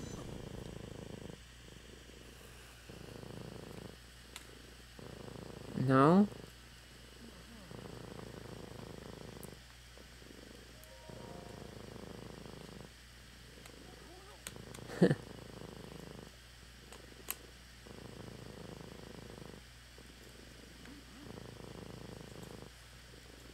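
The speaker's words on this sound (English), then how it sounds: "You are just a purring machine." A steady, rhythmic cat purr from the video game Breath of the Wild pulses in even cycles throughout, close and moderately loud, with a couple of short sharp vocal bursts and a brief spoken word over it.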